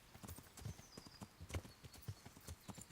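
Horse hooves gallop in a rapid, steady clip-clop rhythm in the medieval video game Kingdom Come: Deliverance, faint and moderately distant, with no talk over them.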